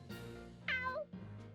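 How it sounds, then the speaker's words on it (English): A cat in the video game Fire Emblem Warriors: Three Hopes gives a single clear, close meow, a short rising and falling cry over a soft background music bed. "Well, well. A cat."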